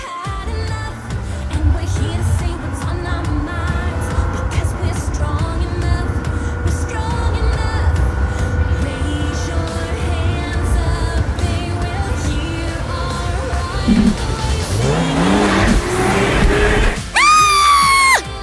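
Toy LEGO karts styled after Disney princesses race along, a steady loud rolling and rattling whir filling the clip throughout, with a rising whine and sharper bursts near the end.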